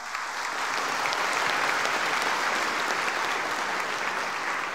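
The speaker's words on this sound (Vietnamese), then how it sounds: "Xin cho một tràng pháo tay." Steady, even applause from a crowd at a Vietnamese Christmas carol concert, dense clapping that holds at a constant level from start to finish without any talking.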